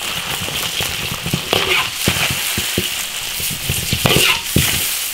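Spring onions and chili peppers fry in hot oil in an iron wok while a black fish hotpot is being made, giving a steady close sizzle broken by frequent sharp crackles and spatula scrapes.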